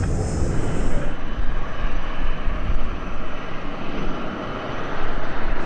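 A Bahamasair airliner approaching to land on runway 10, heard as a steady, loud, broadband engine roar that holds constant throughout with no talking.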